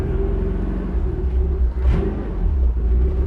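An old car that sat in a junkyard for over 20 years drives under its own power in first gear, its engine a low, steady rumble with a throaty pulse and a brief rise midway.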